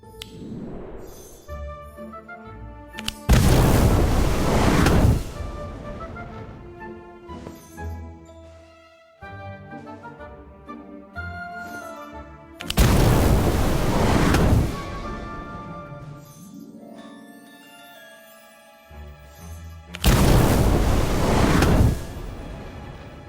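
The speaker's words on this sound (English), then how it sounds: "Try casting Incendio beneath each cauldron." In Harry Potter: Magic Awakened, the Incendio fire spell is cast beneath each cauldron, producing three loud whooshing bursts of roaring flame, each about two seconds long, between tinkling chime-like game music.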